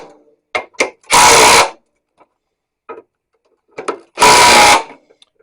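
A power tool loosening the crusty bolts of a trailer hitch on a Chevrolet S10, with two loud, close impact-driver bursts of about half a second each, separated by short clicks and clanks.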